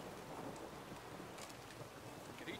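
A thunderstorm in The Witcher 3 video game gives a steady wash of heavy rain with a low thunder rumble beneath it, continuous and moderately loud, with no voices.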